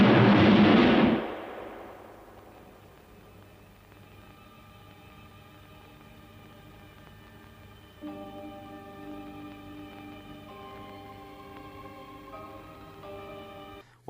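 A loud, dense burst of war-film gunfire opens the scene, then drops away within two seconds into sustained tense orchestral music that swells again near the end.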